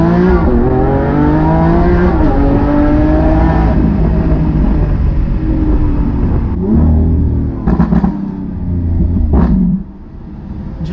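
Lamborghini Aventador S Roadster V12 engine pulling hard, revs rising and falling through several gear changes in one loud, close continuous roar, easing off toward the end.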